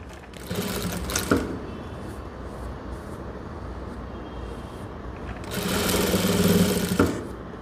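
A sewing machine stitching a blouse with darts runs in two bursts, a steady close mechanical whir that starts briefly near the beginning, drops to a low hum, then surges loudly again for a second stretch of stitching.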